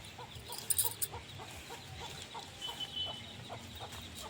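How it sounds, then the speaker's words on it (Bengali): Chickens foraging among spinach plants in a field cluck in short scattered bursts, faint and somewhat distant, with light rustling and no speech. "এখানে পৈশাক লাগানো আছে তাতে মুরগিগুলো চড়তিছে একটু হাঁকিয়ে দিই"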